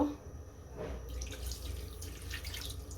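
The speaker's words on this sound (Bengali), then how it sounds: "এখন আমি একটু পানি দিয়ে দেব।" Water pours into a cooking pot in a kitchen, a soft continuous splashing and trickle that runs steadily for a few seconds with no talking.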